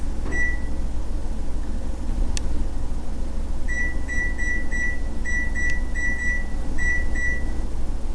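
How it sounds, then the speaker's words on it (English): An oven being switched on and set to 400 degrees, giving a series of short electronic beeps from its control panel, a single one first, then several quick beeps in clusters over a steady background hum. "I'm going to turn the oven on to 400 degrees."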